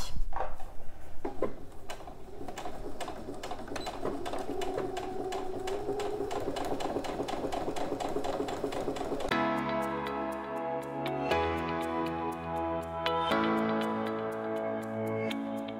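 A sewing machine runs stitch by stitch through a quilted pouch with thin batting, a steady rapid mechanical ticking that holds for about nine seconds, then gives way to a different, more tonal passage.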